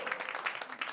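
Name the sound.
applause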